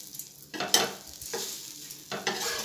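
A wheat flour onion dosa fries on a hot pan with a soft, steady sizzle. Several brief scraping stirs or flips of a spatula cut through it at intervals. The sound is fairly faint and close, with no talking.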